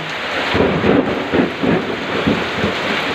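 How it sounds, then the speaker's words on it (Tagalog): Steady afternoon rain pours down in Quezon City with repeated low rumbles of thunder rolling through, close and heavy, no voices. "Kumikidlat at kumukulog."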